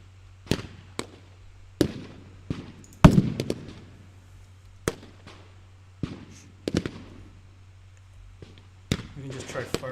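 In a turn-based video game, a unit fires a series of sharp, separate shots, each a sudden crack with a short decay, spaced irregularly over several seconds against a quiet low hum.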